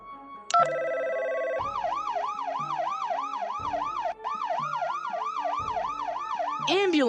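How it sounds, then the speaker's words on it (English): A wailing ambulance siren from a mobile hospital surgery game sweeps up and down in a steady, loud rhythmic cycle, preceded by a short electronic beep tone, with no voices over it. "Ambulance has arrived."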